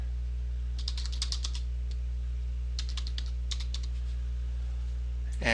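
Bursts of typing on a computer keyboard while account login details are entered, two clusters of quick clicky keystrokes with a pause between, close up over a steady low hum, no talking.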